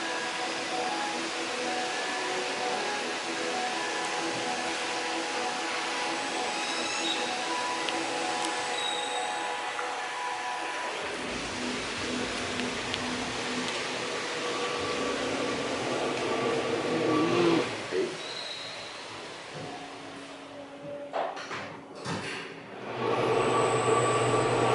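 A Schindler traction elevator at a resort building in Nayarit, Mexico, runs with a loud, continuous mechanical roar and hum, shifting in tone partway through as the car travels and slows.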